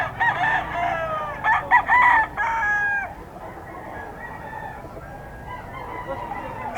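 Gilmore Henny gamefowl roosters crow at a poultry market, a couple of close, strained crows in the first few seconds followed by quieter background clucking and market noise.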